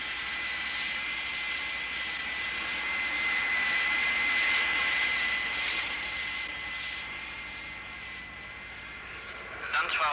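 An AV-8 Harrier jet engine holds a steady high whine with a broad roar under it before a conventional takeoff. It swells slightly midway and then eases off, and there is no talk over it.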